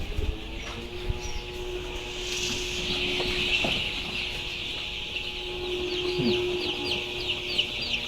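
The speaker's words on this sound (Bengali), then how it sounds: "আমার 1 নম্বর শীটে 2000 কালার বার্ড মুরগি আছে" Many ten-day-old coloured-breed chicks cluck and chirp together in a poultry shed of about 2000 birds, a steady, busy chorus with a constant low hum running underneath throughout.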